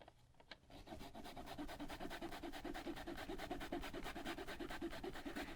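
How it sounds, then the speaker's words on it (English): A zester grates fresh ginger in quick, steady rasping strokes, a close, soft and regular scraping rhythm that carries on alone for several seconds. "And our new zester here is perfect."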